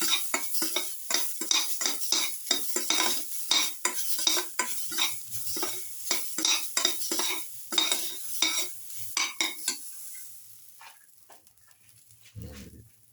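Cashews roasting in ghee over a low flame with salt and cardamom, stirred in a pan: repeated scraping stirs and soft sizzling close up, easing off toward the end with a low thud.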